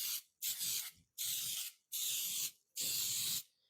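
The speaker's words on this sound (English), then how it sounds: "we're going to spray up our little loaves" Cooking spray hisses onto mini loaf pans for banana bread in five quick bursts with short pauses between them, close and fairly quiet.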